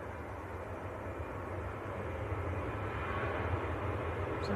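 A Ryanair Boeing 737-800 departs Manchester Airport, a broad, steady jet engine roar building slightly in loudness at a distance, with no voices.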